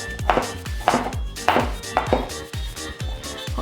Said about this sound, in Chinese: 把紅甜椒切成小丁狀。